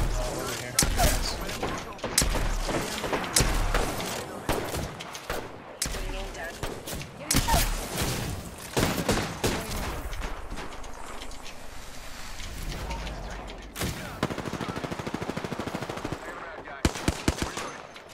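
Gunfire in the game Apex Legends: repeated bursts of automatic weapon fire and single shots, loud and close, scattered throughout with short gaps, while players talk over it.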